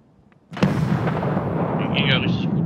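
A sudden grenade blast in Escape from Tarkov after a brief quiet moment, followed by a rumbling, crackling debris tail that lingers.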